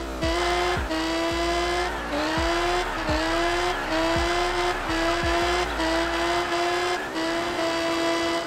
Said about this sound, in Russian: давайте сейчас мы просто послушаем, пацаны, звук легендарного BMW M5 V10